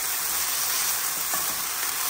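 Chicken marinated in ginger-garlic paste, soy sauce and black pepper frying in a pan: a loud, steady, close sizzle throughout, with faint stirring underneath and no speech.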